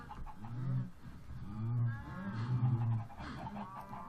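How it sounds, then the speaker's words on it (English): Chicken clucking from the Minecraft FTB modpack video game, a series of repeated low, warbling clucks in quick succession, fairly close and clear, with no speech over it. "Yeah, you're a chicken"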